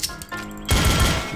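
Counter-Strike gunfire heard close and loud: a few quick single shots, then a dense burst of rapid automatic fire that carries on to the end.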